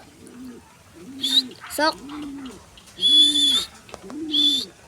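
Pigeons coo in repeated low, rolling calls spaced a second or so apart, close by, while someone speaks intermittently between and over them.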